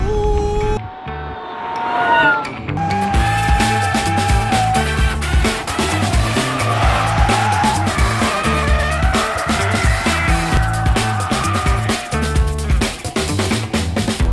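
A stretched 6.1-metre Tesla Model 3 with its roof cut off drives hard, tires skidding and squealing loudly against a constant electronic tone and rhythmic pulsing beat.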